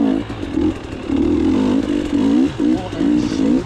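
A dirt bike engine rides a shaded trail in South Florida, loud and close, its revs rising and falling in repeated surges with brief dips between throttle bursts, no talk over it.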